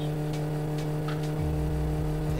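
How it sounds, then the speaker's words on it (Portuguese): A car engine in the video game My Summer Car hums steadily, then its pitch climbs as it revs up, with a muffled rumble underneath. "agora disparou o motor, hein?"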